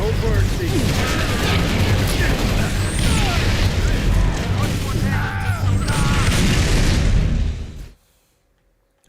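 Loud, booming grenade explosions and heavy crashes roll through a Halo Reach battle, dense and continuous for several seconds before cutting abruptly to near silence.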